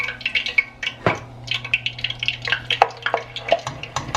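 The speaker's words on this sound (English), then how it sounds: "look at them fry" Potato chips deep frying in very hot oil, a close, busy crackle of irregular pops and spits over a low steady hum, with no talking.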